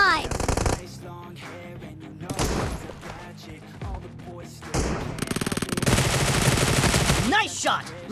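Gunfire in a PUBG team deathmatch video game: loud bursts of automatic shots in several clusters, with sharp clicks and brief gaps between them, alongside game sounds and occasional voice.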